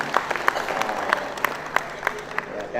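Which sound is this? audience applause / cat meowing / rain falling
audience applause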